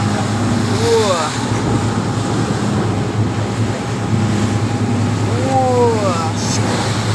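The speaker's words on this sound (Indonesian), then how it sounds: "Ini angin berapa knot mas?" Strong wind gusting over rough sea off Mentawai, a loud steady roar of wind and waves buffeting the microphone, with a couple of faint high whistling sweeps rising through it.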